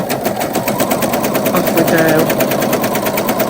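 A sewing machine stitches a shirring row in a fast, even run of needle strokes, loud and close, with a brief spoken word from a person.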